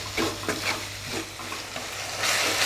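Chicken gravy masala with coriander-cumin powder fries in a pan as a spoon stirs it, giving a steady close sizzle with soft rhythmic scraping and a louder hiss near the end, and no speech.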